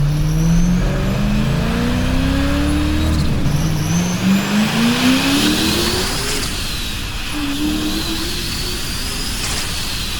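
A Ford Mustang fitted with an added intercooler makes moderate mid-range pulls on a road, its engine note climbing steadily in pitch through successive gears. It is loud and close, with brief dips at each shift.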